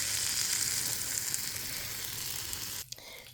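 Fish fillets wrapped in pumpkin leaves frying in oil in a pan, a loud, continuous close sizzle that drops away abruptly near the end.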